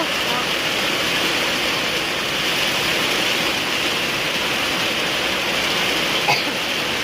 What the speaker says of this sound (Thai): ฝนตกวันนี้นี่ถือว่าตกงามเนาะผมมีเสียงฟ้าเสียงฝนทุกคนเลย